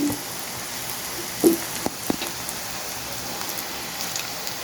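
Chili powder hits softened onions in a hot pan with a soft, steady crackling sizzle. A few sharper pops and a light tap stand out near the start.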